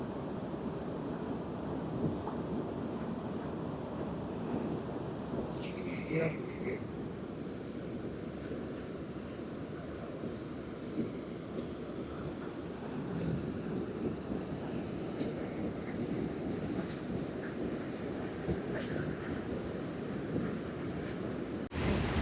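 Mahilekya waterfall near Theni, a steady broadband rush of falling water roaring close by throughout, with occasional faint voices of people in the background.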